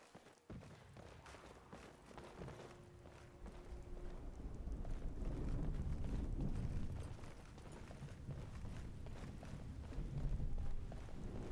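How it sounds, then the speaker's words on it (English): Distant rumbling explosions in Skyrim roll in as low, muffled booms over a steady outdoor ambience, swelling louder toward the middle and end of the stretch, with no voices. "Explosions off in the distance."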